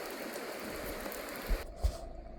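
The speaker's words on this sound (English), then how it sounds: "As you can see, it's pretty rainy here" Steady rain falling at Quinault Lake in a Washington rainforest, a continuous broadband patter of drops on water and foliage, with two brief dull thumps near the end.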